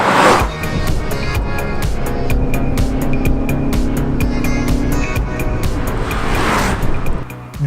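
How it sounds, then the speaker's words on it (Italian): A 1990 Lancia Delta HF Integrale rally car, the Giugiaro-designed icon, runs with a loud, steady engine drone close by for the whole stretch, with no pauses. "Questa è la Lancia Delta HF integrale, ma tutti la conosciamo più semplicemente come la Regina."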